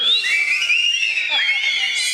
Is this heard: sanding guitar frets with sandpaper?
no